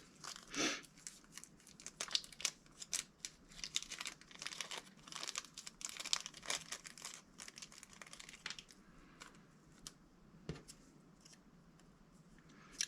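Plastic bag of selector stickers crinkling and rustling as it is handled, a long run of close, busy crackles easing to scattered crinkles, with no talking.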